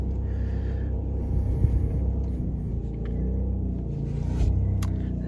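Low, steady engine rumble from a 2011 Kia Forte with a flat tire as it is driven into a shop, close and continuous with no talk.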